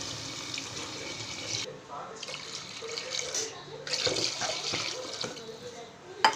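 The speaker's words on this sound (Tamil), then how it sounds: "இப்போ ஒரு 3 டம்ளர் தண்ணி ஊற்றிக்கலாம்." Water pours steadily into a cooking pot for macaroni, about three tumblers' worth, as a continuous splashing hiss with brief pauses and faint talk underneath.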